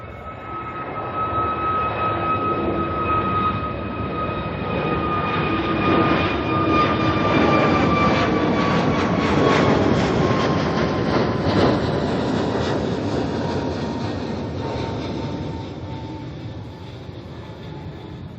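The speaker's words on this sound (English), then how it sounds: "Next plane is already up in the air. Jetstar A321, this one's heading off to Brisbane." A Jetstar Airbus A321 jet climbs away from Auckland Airport toward Brisbane, its broad engine roar loud and steady, swelling and then slowly fading with a falling whine as it moves off.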